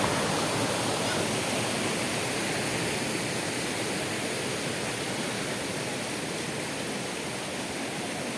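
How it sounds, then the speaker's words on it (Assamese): A stream near Kakochang waterfall in Karbi Anglong rushes in a steady, dense broadband wash of flowing water, constant and fairly soft throughout with no voices. "চাইডেদি নিজৰা বৈ আহি আছে।"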